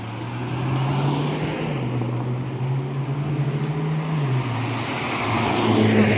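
A Ferrari's engine hums steadily as the car passes close by, its low drone rising and falling with a constant background roar.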